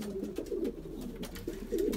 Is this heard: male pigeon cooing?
yes